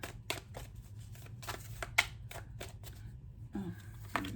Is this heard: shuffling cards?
yes